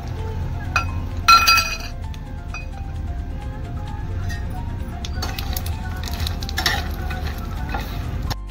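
Dry fruits and seeds, including walnuts, pumpkin seeds and makhana, are roasted and stirred in a pan for sugar-free modak, giving close, scattered clinks of a spoon on metal over a soft, steady rustle of the pan.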